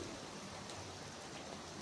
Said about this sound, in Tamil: மழை பெய்யுறது சவுண்டு கேட்டுச்சா?